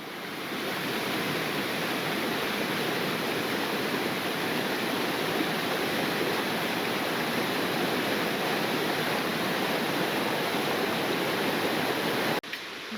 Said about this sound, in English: just stunning rapids and waterfalls